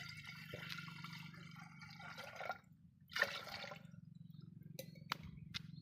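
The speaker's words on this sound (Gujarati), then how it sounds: "પહેલાં મૂકી દઈશું કુકર એમાં નાખી દઈશું આપણે પાણી" Water splashes and trickles into a metal pressure cooker in short pours, with a low steady hum underneath and a few light clinks.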